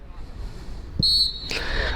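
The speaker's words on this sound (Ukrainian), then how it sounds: "На цьому лунає фінальний свисток нашого поєдинку" A referee's whistle at an under-17 youth football match gives a sharp, shrill blast followed by a second shorter one, carrying clearly over faint outdoor pitch ambience.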